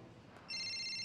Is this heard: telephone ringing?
yes